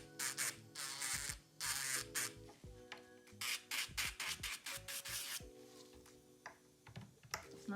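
An inexpensive cordless electric nail file spins at 4,000 RPM against a nail, giving a faint, close whir broken by irregular scratchy grinding bursts as it touches and lifts off the surface.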